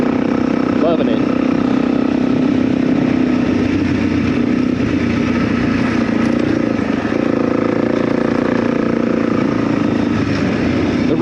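A motorcycle engine runs steadily throughout, a continuous low hum like a bike idling nearby on a rough backcountry road, loud and even with no talk over it.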